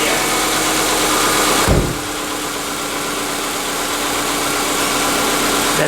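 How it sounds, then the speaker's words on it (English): A Subaru car engine idles with an even, steady hum after a brief revving start, close and continuous. "Let's hear how it sounds a good engine."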